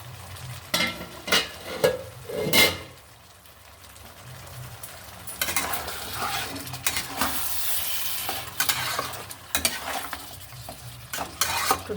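Chicken and potatoes stir-fried in a pan, with a steady sizzle broken by loud scraping and clattering strokes of a spatula that come in a quick burst early on and then in a busier run of stirring.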